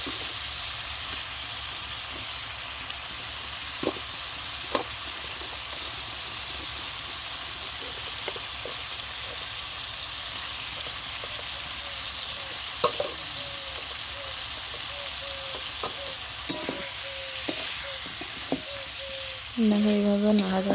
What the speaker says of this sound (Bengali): সেই ফুলকপি আলু ভাজাগুলো এই মশলাটার মধ্যে দেবো, দিয়ে ভালো করে নাড়াচাড়া করবো